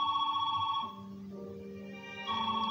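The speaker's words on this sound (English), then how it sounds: "Get the phone, Charlie." A telephone rings in repeated electronic trills, loud and close, pausing in the middle before ringing again, with no voices over it.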